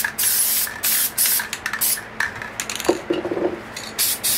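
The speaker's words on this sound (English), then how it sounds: "take your can of red, and we're going to spray just here in the center." Short bursts of red spray paint hiss from an aerosol can onto a small nature painting, a series of brief close sprays separated by pauses, with light clinks and handling noises in between.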